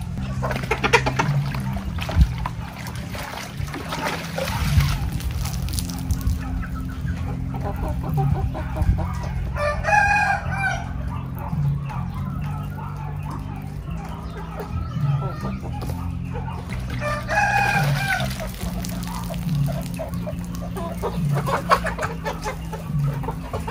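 Gamefowl roosters in a breeder's yard in General Santos City cluck steadily throughout, with two brief harmonic crow-like calls rising over the continuous low farmyard murmur.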